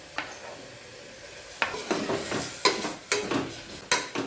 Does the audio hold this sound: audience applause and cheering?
no